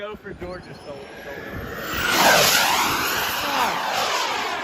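A powerful RC airplane makes a fast, close flyby, its engine whine swelling loudly and then holding strong as it passes, with people talking over it at the start.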